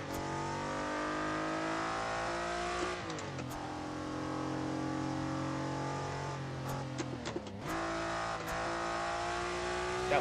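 Honda NSX engine in a racing video game at Circuito Rekalde, revving high and steady near the redline, dropping twice through quick gear changes and climbing again, loud and continuous with no talk.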